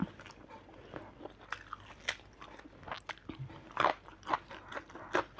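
Close, quiet chewing and crunching while eating Thai mackerel chili dip, with irregular bites and crunches over several seconds and no talking.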